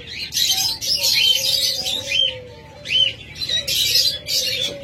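An Australian dove pair calls in several repeated bursts of bright chirping with soft cooing tones, close and clear, alone without talk.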